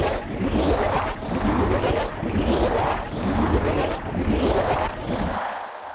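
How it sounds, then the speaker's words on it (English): A layered charge-up sound effect for Velvet's Annihilating Crash surges in repeated loud, dense swells that rise and fall about once a second, with a roaring low end and hissing highs. "So everything going together, the charge up sounds like this."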